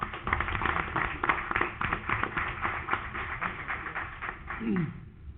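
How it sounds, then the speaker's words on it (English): A city council meeting audience claps in a small room, with brisk, closely spaced hand claps that continue for several seconds and then trail off as a voice begins. "Let's give him a round of applause."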